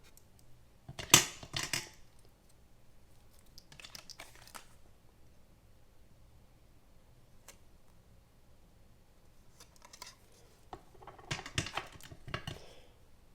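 Scissors snipping the corner off a handmade greeting card, a few crisp close cuts in short bursts separated by quiet pauses, with light paper rustling between them.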